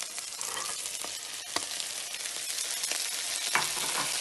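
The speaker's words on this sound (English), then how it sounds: "So now we're just going to mix that, let it cook for a little bit" Lentil soup ingredients, including diced apple, corn and black beans, sizzle and fry in a pot while being stirred, with a steady hiss broken by a few short scraping knocks of the spoon, close and alone.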